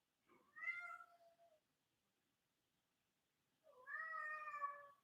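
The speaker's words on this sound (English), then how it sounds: "it's my cat" Two clear meows from a house cat, a shorter one early and a longer, louder drawn-out one near the end, separated by a quiet pause with no talk.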